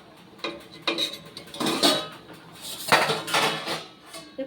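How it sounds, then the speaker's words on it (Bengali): Metal pot lid lifted off a pot of mangoes boiling in water, several close clanks and scrapes of metal on metal in bursts. "2 মিনিট পর ঢাকাটা খুলছি।"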